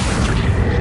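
A short, loud, dense rumbling boom from the Accio spell being cast in the video game Hogwarts Legacy, lasting under a second.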